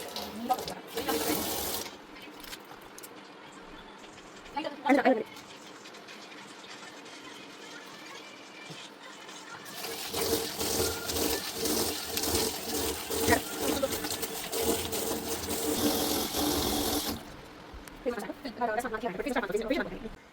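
Tap water running into a sink while a face is washed, heard in bursts, loudest in a long stretch in the middle, with a person talking between and over the flow.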